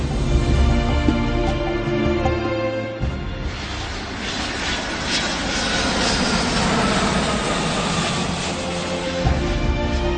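Airplane on a return flight, a steady broadband engine roar with a sustained low drone throughout, continuous and fairly loud, with no voices.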